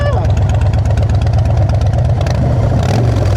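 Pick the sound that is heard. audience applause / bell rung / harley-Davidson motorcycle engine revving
harley-Davidson motorcycle engine revving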